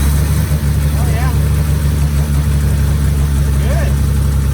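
Toyota Corolla KE70 with a 3TC Hemi engine idling low and steady, a continuous rumble close by, with voices talking over it.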